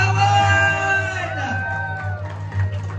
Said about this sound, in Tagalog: Palakpakan sigawan!